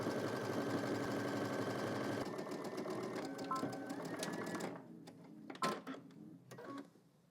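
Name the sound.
sewing machine stitching shorts seam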